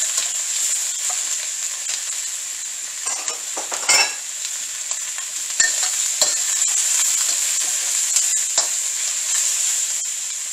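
Pork ribs sizzle and fry in a hot pan with garlic sauce and peppers, a steady bright hiss running throughout with occasional louder stirring scrapes and clinks near the middle.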